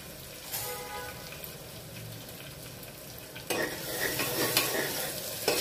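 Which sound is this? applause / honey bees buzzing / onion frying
onion frying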